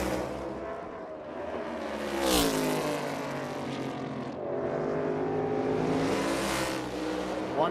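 A NASCAR Cup race car roars past on track during Xfinity 500 qualifying, its engine rising in pitch and fading, then another surge follows as the engine revs hard and close.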